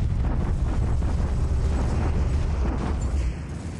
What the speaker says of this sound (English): Our return bombardment with actual dedicated artillery regiments